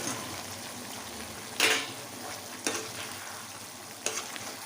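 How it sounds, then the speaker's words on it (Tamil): Fried chicken pieces go into bubbling Manchurian sauce in a pan over a low flame, giving a steady close sizzle broken by three sharp, splashy bursts as the pieces land and are stirred. "இப்போ ஃப்ளேமை சிம்மில் வச்சுட்டு நம்ம பொரிச்சு வச்சுருக்கிற சிக்கனை இதில் போட்டுடலாம்."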